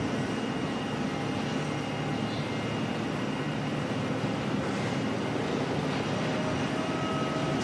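A Singapore Airlines jet taxiing at Auckland Airport, a steady distant engine whine and rumble that holds evenly throughout.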